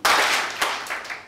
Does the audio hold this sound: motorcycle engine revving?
no